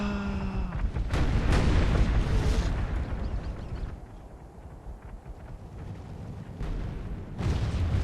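Cannon artillery fires in Medieval 2 Call of Warhammer, the Empire faction in battle: heavy booming blasts roll out at the start and again near the end, loud and rumbling, with a quieter stretch between.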